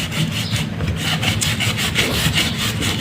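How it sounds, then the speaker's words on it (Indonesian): Fine sandpaper rubbing back and forth on the shaft of a stuck Cosmos electric fan, a steady close scratchy rasp in quick regular strokes with no pauses, alone without any voice. "Jadi kita gunakan amplas halus ya."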